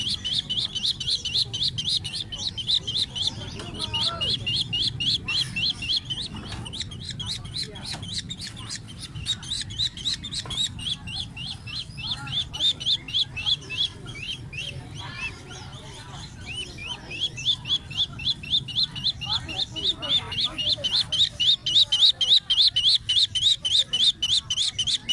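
Many caged birds chirp and tweet in rapid bursts at a bird market in Lang Son, Vietnam, with a few low clucks and faint voices underneath.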